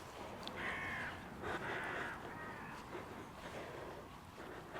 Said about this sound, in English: Oh, see, yeah, crows.